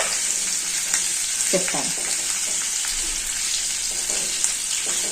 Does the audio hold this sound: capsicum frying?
yes